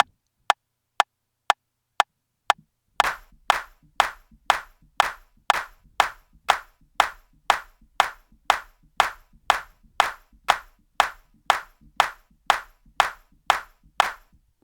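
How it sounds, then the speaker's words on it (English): Hands clapping along to a steady beat: a few sparse, crisp claps at first, then a long run of evenly spaced, sharp claps over a soft low pulse, close and regular throughout. "So see if you can tap or clap along at this tempo."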